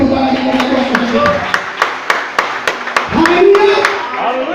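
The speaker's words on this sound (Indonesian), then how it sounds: "kita berikan tepuk tangan kepada Tuhan" A church congregation claps along in steady, evenly spaced sharp claps for nearly five seconds. The clapping sits under a loud sustained voice and tonal background.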